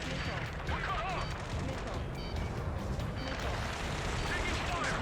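Dense, continuous gunfire and rumbling blasts in Ace Combat 7 during a ground battle, under shouted radio chatter.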